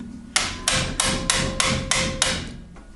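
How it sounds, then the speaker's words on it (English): Six sharp, evenly spaced hammer blows strike an impact screwdriver during a 190cc Grom-clone engine rebuild, each a loud close metallic crack with ringing decay, falling in a steady rhythm about every third of a second. "Give it a little hammer, then it pushes in and turns at the same time."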